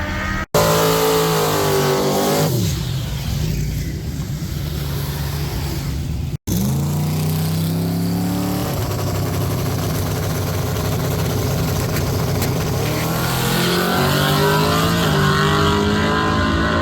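A twin-turbo drag race car revs and accelerates, its engine note rising and shifting in pitch through gear changes, loud and close, holding a sustained roar for most of the run.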